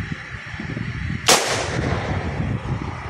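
A launcher fires an antenna line over a tree at an outdoor radio field day, giving a single sharp, loud pop followed by a fading whoosh over quiet background.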